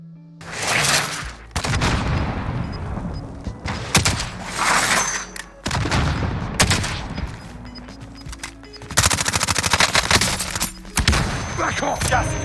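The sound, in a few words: gunfire in the Warzone video game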